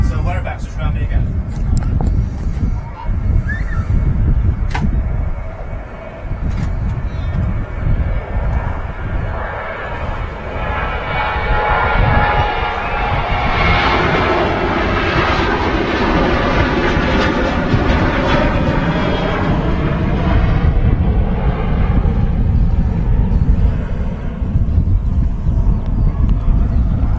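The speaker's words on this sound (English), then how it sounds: "Next out we got a Ryanair 737" A Ryanair Boeing 737 at Manchester Airport roars loudly and continuously, its engine noise swelling and rising in pitch through the middle as it passes, with a voice talking over it.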